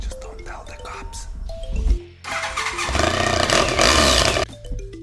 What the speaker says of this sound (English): One more thing about the bike, it's got a modified exhaust.